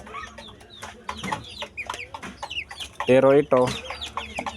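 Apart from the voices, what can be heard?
young rooster (stag) clucking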